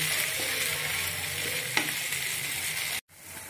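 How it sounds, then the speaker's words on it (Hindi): A paste of cashew, onion, garlic and ginger being stirred and cooked in a pan for methi matar malai, an even moderate sizzle with one spoon knock, ending in a sudden cut to near silence. "और ये काजू का पेस्ट डाल देंगे इसमें काजू प्याज लहसुन अदरक का अब इसे मिक्स कर लेंगे और दो मिनट के लिए पकाएंगे"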